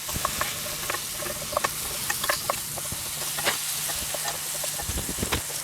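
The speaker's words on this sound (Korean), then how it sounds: "이때 볶아줍니다. 살짝만 볶아줘야 됩니다." Mushrooms and perilla leaves being briefly stir-fried over high heat in a pan: a continuous sizzle with frequent sharp ticks and clacks from stirring, close up, with no voices.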